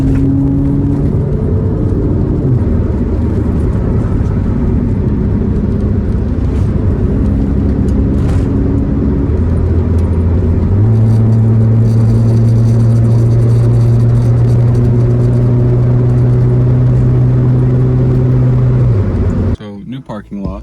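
Engine hum of a car under way, with tones shifting as it changes speed, loud and continuous, then cutting off at the end.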